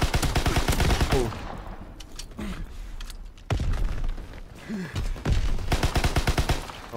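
Rapid automatic gunfire in Call of Duty WW2, loud close bursts at the start and end with a quieter gap of scattered single shots and thuds in between.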